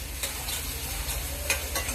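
Sponge gourd and potato curry frying in a pan as chili powder is stirred in, a steady soft sizzle with light scraping strokes of the spoon, close and without talk.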